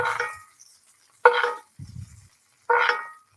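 Hot butter spooned over chicken finishing in an oven after coming off a Masterbilt smoker, with three short sizzling splashes separated by silence and a low clunk between them.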